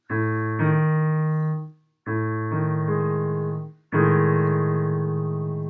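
A dissonant quartal chord stacked in tritones rings out on a sustained instrument, three long held chords built up one after another, each fading before the next, clear and close.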